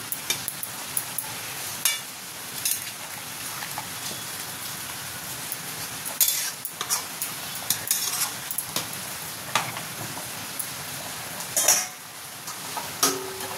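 Chicken with kewra water, rose water and royal garam masala is stirred in a pan, a continuous close sizzle with intermittent sharp scrapes and taps of the utensil, alone with no voices.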